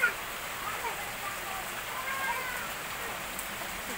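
Heavy rain pours steadily during a storm beside a pond behind a house, a broad continuous hiss of drops from start to end at moderate level with no voices.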